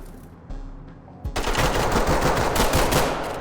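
Automatic gunfire rattles loud and close in the tactical shooter Ready or Not, preceded by a few softer thumps and then a sustained burst that fills the last two seconds.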